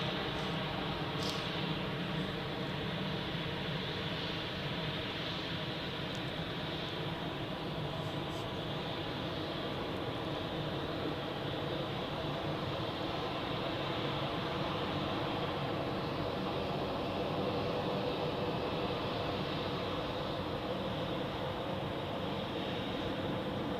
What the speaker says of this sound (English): KLM with an Embraer 190 departing to